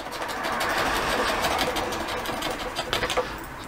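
A key drags across a painted surface in a scratch test, making a continuous, gritty rasping scrape with a fast buzzing texture, close and fairly loud, with no talk.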